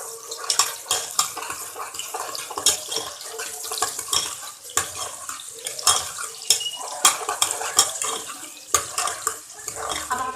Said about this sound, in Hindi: अब हमारी प्याज गोल्डन ब्राउन होने तक हम भूनते रहेंगे इसको, प्याज को चमचा चलाते रहेंगे।